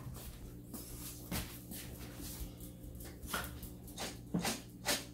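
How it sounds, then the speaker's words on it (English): Dogs bark in a domestic setting during popcorn making, a few sharp barks and yips spaced irregularly over steady background hum, moderately near. "There goes Max and Rolly barking."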